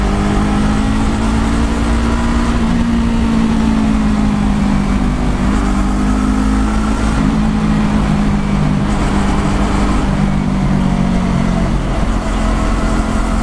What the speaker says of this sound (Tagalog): Chill ride lang ako dito sa motor na to.